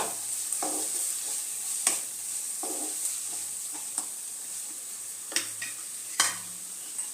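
Boiled chickpeas and potatoes frying in a pan with a cooked-down spice masala for an aloo chana curry, a steady low sizzle broken by periodic scraping and stirring knocks, no voices.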